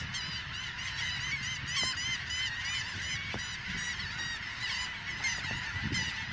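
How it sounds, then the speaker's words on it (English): Masses of birds packed along the Egmont Key shore at sunrise keep up a constant chorus of honking, many layered calls close and loud without a break. "There's so many birds."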